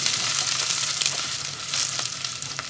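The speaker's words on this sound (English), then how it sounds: "And first we add the leftover onions and stir it around." Leftover onions frying for Egyptian koshari, a bright, steady crackling sizzle with soft stirring scrapes, close and continuous.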